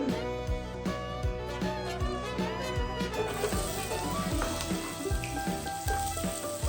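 Mustard oil sizzles loudly in a pan as food fries, a continuous crackling hiss with rhythmic stirring scrapes and a faint tonal hum beneath, the sizzle brightening partway through.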